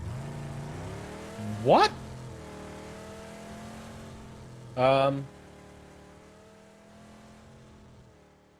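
A car engine in PUBG drones steadily in the background as people talk over it, with two short rising tonal bursts interrupting the constant low hum.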